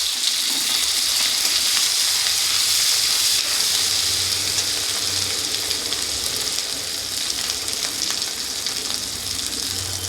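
Tomatoes hit a hot pan in a simple home-style dish, and a loud, steady sizzle with dense hissing frying crackle carries on without pause, close up and with no voices.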